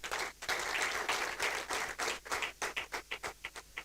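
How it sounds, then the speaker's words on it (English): Workshop audience clapping for a keynote speaker, a dense burst of applause that thins into separate, rhythmic claps near the end. "let us give our keynote speaker a befitting hand clap."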